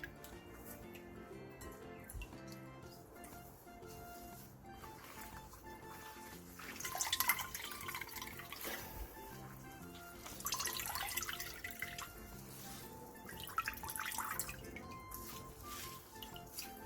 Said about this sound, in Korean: 다 절인 오이는 물에 가볍게 한 번만 헹궈내주세요.